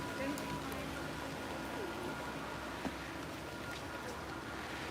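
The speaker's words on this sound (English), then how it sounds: "I hear more rain." Steady rain falls outdoors at an animal park, a dense, even hiss of drops that holds throughout without breaks.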